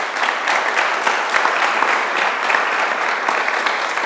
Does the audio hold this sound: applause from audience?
yes